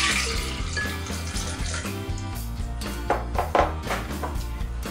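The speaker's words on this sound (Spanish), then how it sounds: "Agregamos el agua." Water is poured into a blender jar for a strawberry-banana soy milk smoothie, a brief splashing, gurgling pour heard close and fairly quiet over a faint background.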